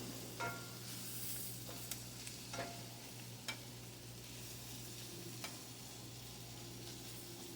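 Onions sizzle quietly in a pan, a soft steady frying hiss with a few faint crackles and pops scattered throughout and no talking.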